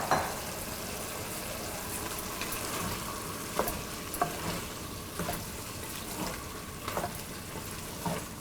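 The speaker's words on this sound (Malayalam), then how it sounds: "നമ്മൾ ക്ലീൻ ചെയ്ത് വെച്ചിരിക്കുന്ന ചെമ്മീൻ ഇട്ട് നന്നായിട്ട് മിക്സ്" Cleaned shrimp being stirred into a pan with half-cooked drumsticks for chemmeen theeyal, a low sizzle under repeated scraping stirs and knocks of the spoon, close and steady with no speech.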